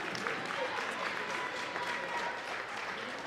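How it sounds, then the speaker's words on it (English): Crowd at an 11U division youth athletic competition area qualifier claps steadily for the competitors, a dense, even wash of applause lasting throughout with no clear voices on top. "Give yourselves a round of applause for everyone who competed."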